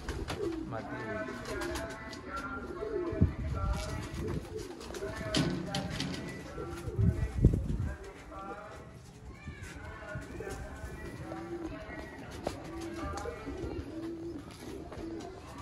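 Pigeons coo repeatedly among a flock of prized Sialkoti birds, with soft rhythmic calls rising and falling across the clip, mixed with rustling and someone talking over them.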